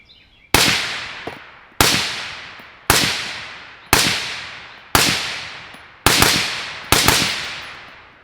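Seven sharp, loud gunshots are fired through a Liberty Precision Machine Torch suppressor with a non-vented end cap, spaced roughly a second apart, each a crisp crack with a quick decaying tail.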